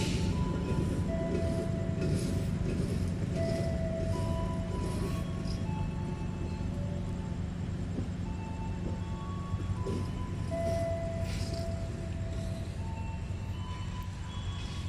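Small inspection rail car pulling into a station, heard as a steady low rumble with intermittent squealing tones and clanks over continuous background noise, moderately loud throughout.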